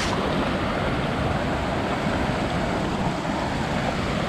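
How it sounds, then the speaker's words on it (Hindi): Jonha waterfall near Ranchi, Jharkhand, a broad steady roar of falling water, loud and constant throughout, with no voices. "बहुत दिन बाद मैं ऐसा टाइप का कुछ वाटरफॉल देख रहा हूँ।"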